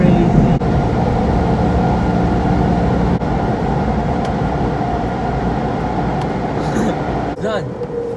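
Automatic car wash running around a car with the vehicle shaking, a loud continuous rumbling roar with bursts of spray and brushing, while people talk inside the car.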